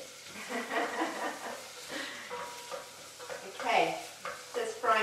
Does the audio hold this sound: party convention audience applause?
no